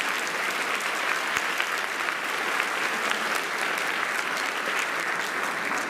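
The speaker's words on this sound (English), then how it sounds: "Give them a nice round of applause." An audience at a show gives a sponsor a steady round of applause; even, moderately distant clapping that continues for about six seconds without talk.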